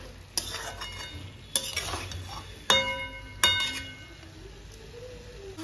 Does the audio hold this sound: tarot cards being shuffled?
no